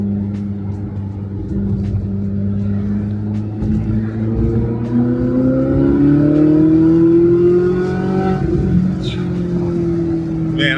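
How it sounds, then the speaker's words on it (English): Ferrari with a naturally aspirated flat-plane-crank V8 on the move, its engine droning and climbing in pitch as it accelerates, steady and fairly loud, with a voice talking over it. "I cannot get enough of that sound on this flat plane crank V8 NA."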